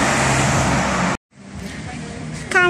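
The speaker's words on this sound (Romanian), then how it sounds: "Bulevardul Unirii cu artezienele sale, cu trafic, cu zgomot" Street traffic on Bulevardul Unirii in Bucharest: a steady roar of passing cars and heavier vehicles is cut off abruptly, then returns as softer traffic murmur, with a brief brighter squeal near the end.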